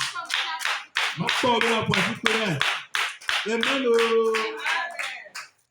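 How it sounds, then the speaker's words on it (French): A church congregation claps hands in a steady, rhythmic beat under voices singing and calling out, each clap sharp and evenly spaced over the whole stretch. "Oh, je vais te voir applaudir pour lui."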